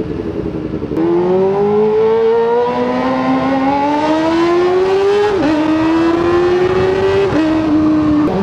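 A Kawasaki ZX4RR sport bike fitted with a 13T front sprocket accelerates hard, its high-revving engine rising in pitch through successive gears with brief dips at each shift, loud and close throughout.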